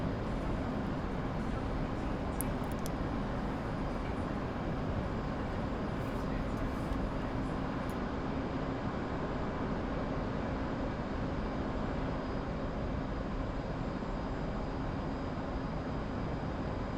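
Continuous loud jet roar of an F/A-18 Hornet flyby in the DCS combat flight simulator, a steady broadband rumble holding throughout with no speech over it.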